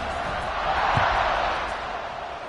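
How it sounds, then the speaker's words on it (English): A football stadium crowd buzzes after a score, a broad sustained roar of many voices that swells briefly and then eases, fairly loud and distant in character. "this crowd is buzzing after that last score"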